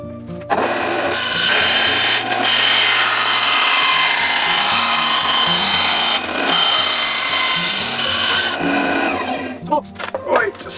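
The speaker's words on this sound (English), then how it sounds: "let's get on the bandsaw and cut the lid off of it." A bandsaw cuts the lid off a wooden Christmas gift box, a loud close whine with a rasping cut through wood lasting several seconds before the blade winds down.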